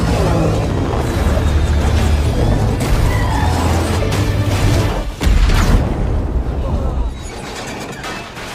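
A helicopter explodes in a loud, sustained rumbling blast with crashing debris, booming for several seconds before tapering off into softer noise.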